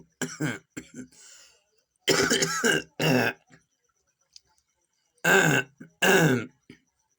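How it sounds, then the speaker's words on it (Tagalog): A person coughs several times in harsh bursts, close and loud, with short silences between the fits. "medyo may ubo pa tayo yan"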